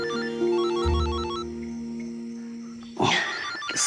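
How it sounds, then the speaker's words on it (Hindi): A mobile phone ringtone plays a repeating electronic melody for about three seconds, steady and fairly loud, then stops as a sharp noisy burst follows. "किसका फोन है?"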